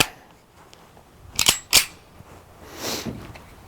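A Beretta M9 pistol fired twice at an outdoor range, two sharp close cracks in quick succession followed by a softer trailing rustle.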